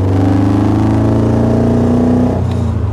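A Westfield car's engine runs loud and close with a rough, flooding drone from a badly adjusted carburetor, holding a steady low tone before stumbling and dropping off near the end.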